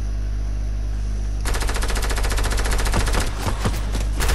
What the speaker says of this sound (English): Whoa, I'm getting shot!